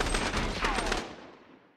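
Rapid bursts of automatic gunfire in the video game Call of Duty: Modern Warfare, a dense fusillade for about a second that then tails off into a fading echo, with no talk over it.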